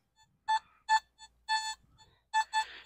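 Metal detector sounding a tone over a buried target while digging, a series of short electronic beeps in an uneven rhythm, some longer and warbling, clear and close with quiet gaps between.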